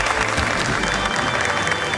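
Audience applause welcoming a contestant on a quiz show, a dense, steady burst of clapping close by with no talking.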